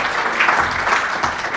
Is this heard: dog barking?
no